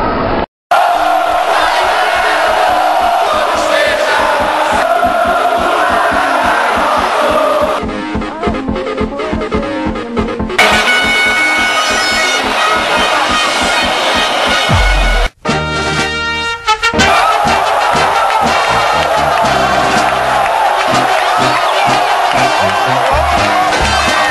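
Flamengo supporters chant loudly and continuously in the stands at Maracanã stadium, a dense roaring crowd with brief cuts and shifts in the singing over about twenty-four seconds.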